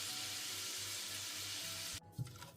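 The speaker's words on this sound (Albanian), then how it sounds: "Vazhdojmë tani fërgojmë këpurdhat bashkë me miellin edhe vetëm për 1 deri në 2 minuta." Mushrooms with flour fry in a pan, a steady close sizzle for about two seconds before it cuts off, followed by a faint clink.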